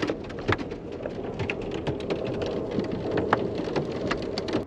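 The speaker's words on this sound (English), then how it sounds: "you can probably hear the hail now hitting." Hail and storm rain pelt a moving Amtrak passenger train in a steady, dense patter of sharp impacts over a low rumbling wash, with no one speaking.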